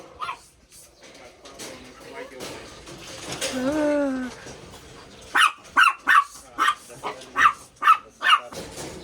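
Dogs bark in a run of sharp, evenly spaced barks nearby, after a stretch of background chatter and a brief whine.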